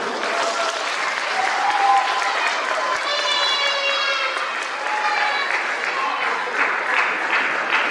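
Applause from a school celebration crowd, steady and sustained throughout, with cheering voices and high whistle-like tones rising over the clapping.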